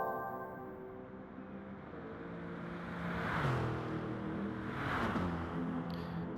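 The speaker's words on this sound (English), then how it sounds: "Oh, just listen to that engine." A race car engine howls at high revs, pitch climbing and dropping through gear changes twice, fairly loud and steady over about six seconds.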